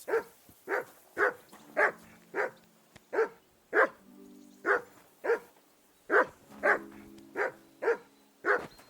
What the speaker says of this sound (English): What's all the fuss about, Mutt? Are you that hungry